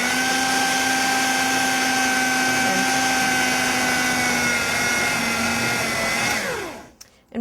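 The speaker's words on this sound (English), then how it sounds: "I'm just going to mix that together again. And start by pulsing it so that it doesn't all fly out" A kitchen stand mixer whirs steadily at high speed while working biscuit dough for strawberry shortcake, a constant loud motor drone that winds down and cuts off near the end.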